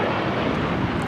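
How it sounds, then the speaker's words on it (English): An Alaska Airlines Boeing 737-900 without winglets takes off at Los Angeles airport, a loud, steady jet engine roar that fills the whole moment. "taking off to Seattle on the 737-900"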